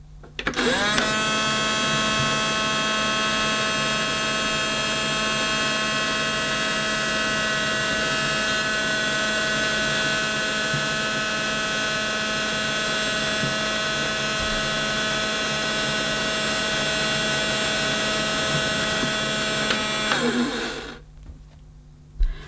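A Miele S5 toy vacuum cleaner by Theo Klein runs to pick up beads, giving a loud, steady, high electric whine with a buzzing drone that holds for about twenty seconds before abruptly shutting off.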